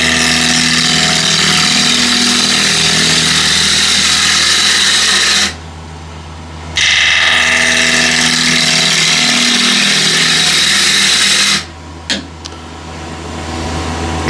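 A freshly sharpened gouge cuts the wings of a wooden bowl spinning on a lathe, a loud, steady grinding hiss that stops briefly twice.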